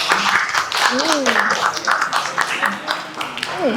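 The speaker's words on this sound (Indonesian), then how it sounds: "tepuk tangan dong untuk kelompok ini" An audience applauds a presenting student group in a classroom, the clapping running under and between talking voices.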